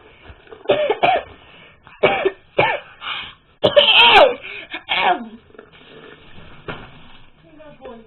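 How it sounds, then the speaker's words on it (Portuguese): Someone coughs in short bursts among casual talk close by, with a louder coughing fit in the middle. "eu tô tossindo"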